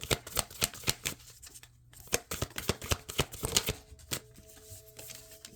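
A Moonology oracle card deck shuffled by hand: a dense run of crisp riffling and slapping card sounds, fast and irregular, close and fairly quiet, with no speech.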